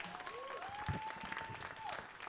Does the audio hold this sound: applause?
yes